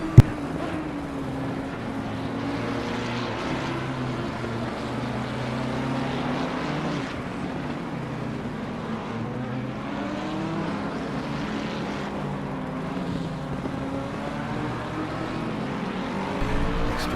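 A neighbour's leaf blower running during yard work, a steady droning whine with a low hum that holds at moderate distance and shifts slightly in pitch.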